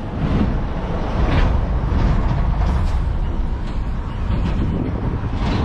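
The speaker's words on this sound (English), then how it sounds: "Traffic's picking up around here." Loud, rumbling roadside traffic with a heavy vehicle rolling past close by, broadband engine and tyre roar plus some wind buffeting, no voices.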